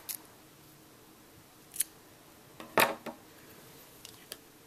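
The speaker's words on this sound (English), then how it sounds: "You're going to fasten off by cutting your yarn." Scissors snip through crochet yarn to fasten off a stitch, giving a few faint, sharp clicks spread over a quiet room, with one louder snip in the middle.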